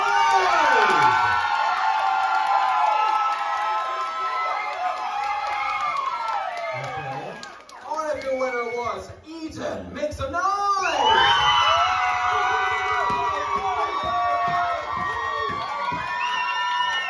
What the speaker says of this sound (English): If they were your favorite, cheer for them.